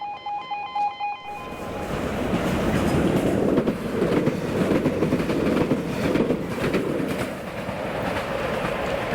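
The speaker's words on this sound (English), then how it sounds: "Warning, another train is approaching." A train rolls past on rail after brief warning tones, with a loud, steady rumble and clattering wheels close by that carries on through the rest of the clip.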